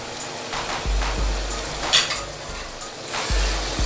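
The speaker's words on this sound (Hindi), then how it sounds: "गरम मसाले को अंदर हमने थोड़ा सा भून लिया है" Whole spices and garam masala fry in a pot for chana pulao, with a steady close sizzle broken by rhythmic scraping and clinking as a spoon stirs.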